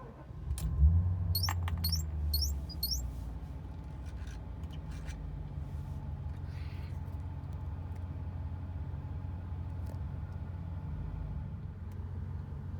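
A 1991 Mercedes-Benz 560SEC AMG engine cranks with a few quick starter clicks near the start, then catches and settles into a steady, low, rumbling idle that holds evenly to the end.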